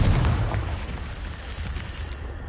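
A Confringo blast curse from a Harry Potter video game goes off as a loud, rumbling explosion that booms at once and slowly trails off into a rough, fading roar.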